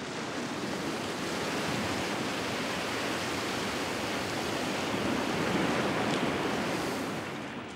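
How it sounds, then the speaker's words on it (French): A steady, loud roar of rushing whitewater comes from an artificial torrent course in the Paris basin, a continuous broadband rush throughout. "Et voilà le frère jumeau d'un torrent des Alpes de bonne taille, en plein bassin parisien."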